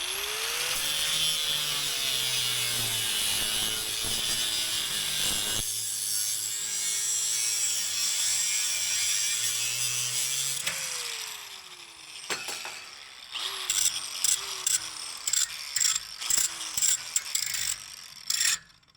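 An abrasive cutoff wheel spins and cuts through material, drawing power from an EcoFlow River 2 Pro portable power station. A loud steady whine shifts in pitch under load, then gives way to short rhythmic grinding strokes near the end.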